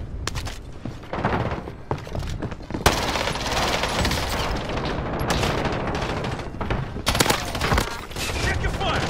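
Rapid bursts of automatic gunfire in a shooter video game, dense and loud with sharp volleys and booms, while players talk over the shooting.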